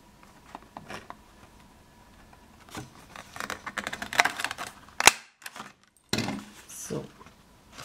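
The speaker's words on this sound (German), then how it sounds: "werde das Papier so stanzen, dass ein Halbkreis ausgestanzt wird" A handheld paper punch cuts a half-circle notch into paper for a DIY mini album page, giving sharp, close clicks and crisp snaps in short bursts, with light handling rustle between them.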